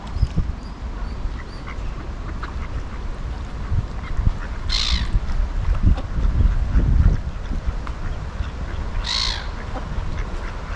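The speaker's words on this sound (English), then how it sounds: "If you don't like ducks, look away now." Ducks by the River Esk give loud, nasal quacks and honks, two prominent calls standing out from scattered softer quacking, over a background of flowing water and outdoor noise.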